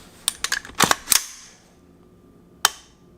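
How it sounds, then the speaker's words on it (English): An AR rifle trigger is squeezed and reset: a quick cluster of sharp mechanical clicks and snaps up close, a pause, then one more crisp loud click. "Reset, extremely loud and extremely tactile, but not a bad trigger at all."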